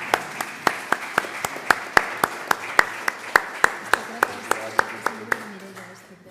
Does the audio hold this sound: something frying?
no